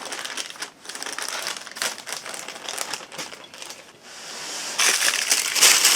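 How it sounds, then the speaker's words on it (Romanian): Paper wrappers being peeled and crinkled away from the edges of a chilled no-bake halva cheesecake, giving a continuous close, loud crackling and crumpling that swells in bursts, with no talking. "Desfacem hârtiile pe care le-am pus pe margine."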